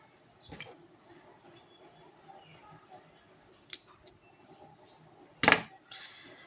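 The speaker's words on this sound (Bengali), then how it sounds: "এই বাড়তি সুতো আমি কেটে নিচ্ছি" Scissors snipping excess yarn ends at a crochet join, a few sharp clicks spread apart with a louder snip near the end, close and quiet with faint background chirps.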